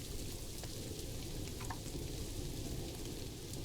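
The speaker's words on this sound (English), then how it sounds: "As much as I love the rain" Rain in a zoo-building video game, heard as a steady, even hiss of falling rain with a faint crackle, continuous and alone without speech.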